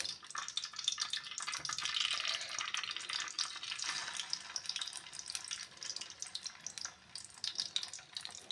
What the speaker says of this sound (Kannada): ಎಣ್ಣೆಯಲ್ಲಿ ಬಿಟ್ಟಿರುವೆ ನೋಡ್ಬೋದು.